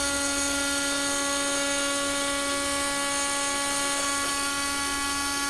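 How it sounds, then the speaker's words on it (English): Oscillating blade on a UV flatbed cutter, cutting with a loud, steady high-pitched whine that holds an even drone throughout without pause. "So this is using an oscillating blade."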